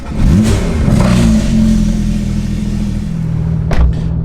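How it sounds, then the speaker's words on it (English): A Porsche 991.2 GT3 with a full exhaust system fires up close by, its starter catch leading into a loud, rumbling rev that settles into a throaty idle, with a second sharp blip near the end. "This thing has a full exhaust system, so it's pretty loud, but let's fire this up."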